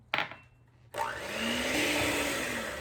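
An electric stand mixer starts up after a brief clatter and whirs steadily, beating vanilla extract into creamed sugar in a bowl, loud and close with a rising motor pitch and no talking.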